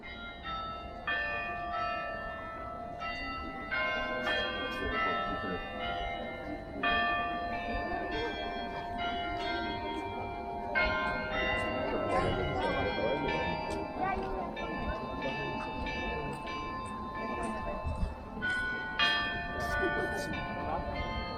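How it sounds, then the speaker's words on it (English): Cathedral church bells in Madrid chime at midday, a sustained series of resonant, overlapping tolls ringing from a distance over faint outdoor background noise. "So that's midday and the cathedral bells chiming."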